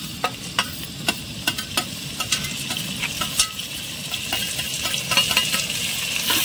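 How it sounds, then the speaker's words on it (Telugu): Tomatoes sizzle and fry in a pan at a nighttime hilltop campsite, with repeated sharp clinks and scrapes of stirring over a steady crackle that builds toward the end. "ఓకే, సూర్య టొమాటోస్ అయితే వేస్తున్నాడు."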